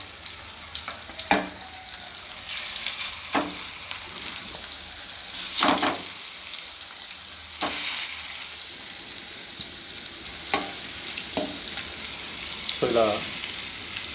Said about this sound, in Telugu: వేడి ఉన్నప్పుడు ఈ ముక్కల్ని దాంట్లో వేసుకోవడం.